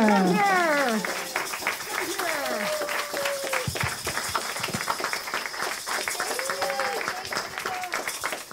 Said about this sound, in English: one more round of applause for all of our Women in World Jazz Junior